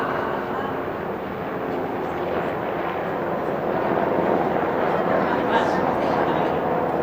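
A voice imitates a helicopter with a steady, fairly loud, throbbing rumble that holds for about seven seconds.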